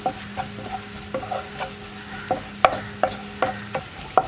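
Chili powder stirring in well-heated oil in a pan, a low continuous sizzle punctuated by repeated scraping and tapping strokes of a spoon, close and fairly loud, no talking.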